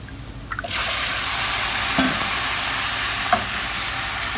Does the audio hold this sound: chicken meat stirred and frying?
yes